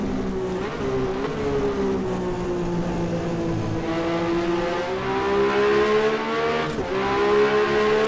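1982 Ferrari 126C2 Formula 1 car in the rFactor 2 racing game, its engine droning steadily and loud from the cockpit with rising and falling revs and brief gear-change dips, heard alone.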